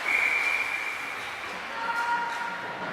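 A referee's whistle at an under-19 ice hockey game sounds as one sustained shrill blast that fades, heard from a distance over a broad wash of rink and crowd noise.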